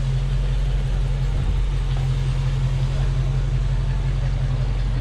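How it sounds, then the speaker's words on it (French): A Ford Mustang rolls by on a quiet village road on the morning of 14 July, its engine a steady, fairly loud low rumble that holds even throughout, with no clear rise or fade. "très belle Mustang"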